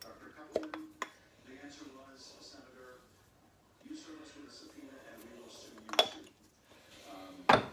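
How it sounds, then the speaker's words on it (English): A utensil clinks sharply against a pan a few times while shepherd's pie filling seasoned with salt and pepper is stirred. The clinks are scattered and close, with someone talking between them. "And just give it a stir."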